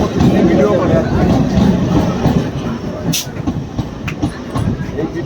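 A train runs along the rails nearby, a loud steady rumble of wheels and carriages with rhythmic clatter, and a brief squeal or horn-like burst partway through; people talk over the noise.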